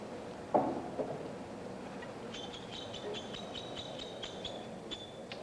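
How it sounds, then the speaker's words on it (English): A bird calls near a 9-ball pool match, starting with a soft knock and followed by a series of short, repeated high chirps that sound faint to moderate over room ambience. "Is that a bird?"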